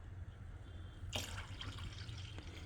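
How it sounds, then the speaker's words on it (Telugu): Beetroot juice pours into a pan, a sudden liquid splash and trickle that starts about a second in and runs on, with a small drip near the end over a low steady hum. "బీట్రూట్ జ్యూస్ ఇది వేసేసేద్దాం"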